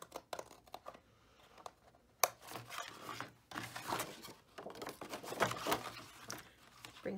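Scissors cut a paper tab for a music folio, with soft, irregular snips and rustling paper handling, close and quiet, punctuated by a sharper click.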